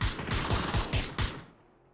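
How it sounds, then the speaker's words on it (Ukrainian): Rapid bursts of gunfire in PUBG on the map Rondo, several volleys in quick succession, loud and close, then a brief lull before another shot at the end. "По ньому настрілюють."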